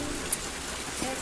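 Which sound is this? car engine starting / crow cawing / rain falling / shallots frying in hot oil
rain falling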